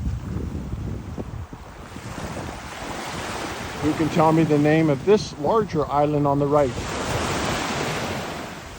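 Ocean surf at Kaanapali Beach on Maui, a steady broad wash of waves with wind buffeting, heard alone at first and then under someone talking close by.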